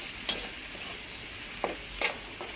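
Spices and salt frying in a pan while being stirred, a steady soft sizzle broken by a few brief scrapes of the spoon against the pan, with no talking.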